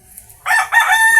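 Gamecock rooster in a backyard giving a single short, loud crow, close and alone, with a brief break in the middle of the call.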